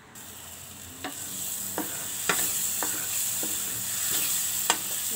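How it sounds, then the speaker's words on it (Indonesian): Pork intestines fry in an oily ground yellow spice paste in a thick stainless steel pan, with a steady loud sizzle and periodic scraping spatula strokes as the mixture is stirred. "langsung digoreng aja"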